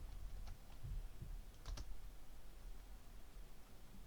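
A few quick keystrokes on a computer keyboard, faint and sparse clicks in two short bursts against a quiet room hiss.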